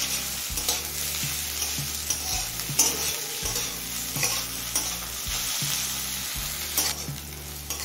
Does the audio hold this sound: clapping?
no